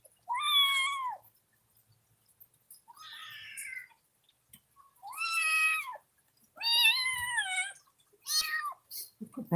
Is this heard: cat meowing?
yes